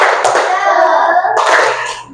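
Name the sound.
children clapping a rhythmic cheer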